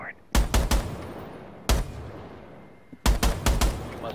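Gunfire in Rainbow Six Siege: loud close bursts of automatic rifle fire in short clusters of three or four shots, separated by pauses with quieter game ambience between them.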